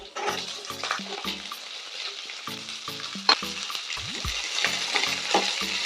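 Cubed big onions hit hot oil for chilli parotta, a loud sizzle with repeated spatula clatters and scrapes against the pan in quick succession.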